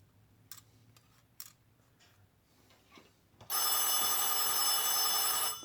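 A telephone rings loudly and steadily, starting suddenly partway through and continuing to the end, after a few quieter knocks and handling clicks in a room.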